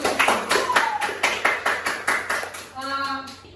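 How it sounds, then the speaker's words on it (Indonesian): A class of students claps hands together in a run of distinct, fairly regular bursts nearby, with a teacher's voice briefly audible near the end. "Coba tepuk tangan"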